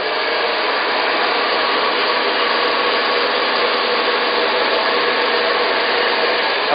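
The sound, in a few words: hair dryer blowing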